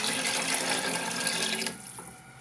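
Water pours steadily in a loud, splashing stream into a cooking pot of chana dal, then cuts off and leaves a faint trickle.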